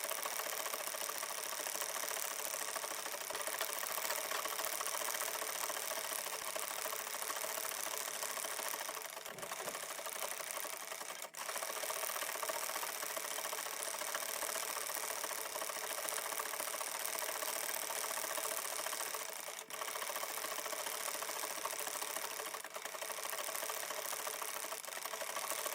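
A sewing machine runs steadily while stitching quilt lines through a quilted heart tote bag, giving a continuous, fairly quiet whir with a couple of brief pauses.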